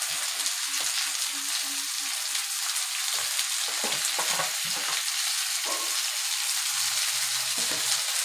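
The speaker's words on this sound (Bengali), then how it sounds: "এবার সেই কষানো মশলার সাথে আলু ফুলকপিটা আমি মিশিয়ে নিচ্ছি" Fried potato and cauliflower hiss loudly in a pan with fried spices, a steady close sizzle broken by repeated scraping stirs of a spoon against the metal.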